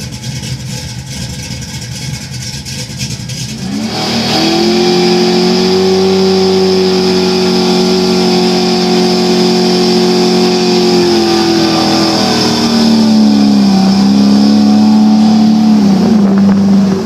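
A Chevy small-block V8 from a 1970½ Camaro, fitted in a Ford Model A, fires up after a few seconds of quiet and settles into a loud, steady, warming-up run, its pitch dipping briefly near the end. No one talks.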